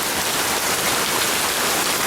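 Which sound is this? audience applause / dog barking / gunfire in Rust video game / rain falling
rain falling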